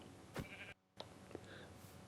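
A single short sheep bleat from Minecraft Bedrock Edition, sharp and close, over a steady synthetic background hum, followed by a brief dropout and a few soft clicks.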